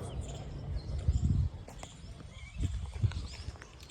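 A thin mare that has been off her feed moves about on a farm, with soft hoof thuds and shuffling close by and a faint bird in the background.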